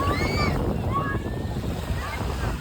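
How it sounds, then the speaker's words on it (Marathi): Loud, continuous surf of strong ocean waves roars close by on a crowded beach, with wind buffeting the microphone, while faint voices and shouts drift through the crashing waves. "लाटा खूप जोरात आहे"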